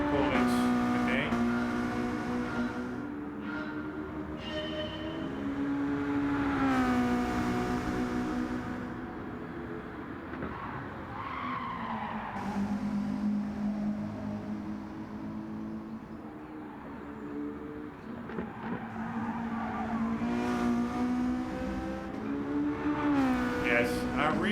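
A race car in Gran Turismo 7 droning through a replay, the engine note climbing and falling through gear changes with repeated rising revs and shifts, loud and continuous, with a voice talking over parts of it.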